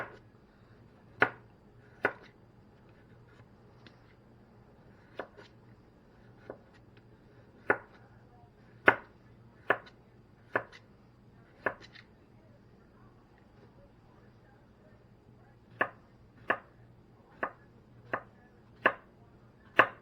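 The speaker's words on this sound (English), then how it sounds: "so I think I'm going to do the rest of this cucumber." A knife chops through cucumber on a cutting board while preparing a Greek orzo pasta salad, giving about fifteen crisp, evenly spaced knocks that come close and clear over a quiet room.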